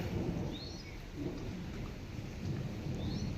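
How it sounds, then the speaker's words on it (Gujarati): Summer thunderstorm: a deep low roll of thunder over a steady patter of rain, fairly faint and distant, with no one talking. "અને ગાજવાનું પણ ચાલુ જ છે."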